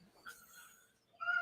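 A pet cat whining indoors in the early morning, two short faint meows with a small pause between them, close and quiet, with no talking.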